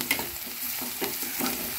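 Vegetables with salt sizzle in a pan while being stirred, with a steady frying hiss and a few rhythmic scraping pulses from the stirring, close up and with no talking.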